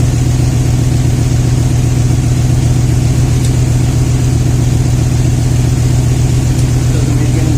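A 2000 Toyota Tundra engine idles close and loud with a misfire, its steady rumble carrying an uneven, lumpy pulse, continuous throughout with no voices.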